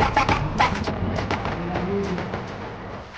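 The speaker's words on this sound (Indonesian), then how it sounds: "lomba burung berkicau nih guys" Songbirds calling at a bird-singing contest, the Wali Kota Cup in Banjarmasin 2025: dense overlapping chirps and trills against a steady crowd hubbub, with faint voices in the mix.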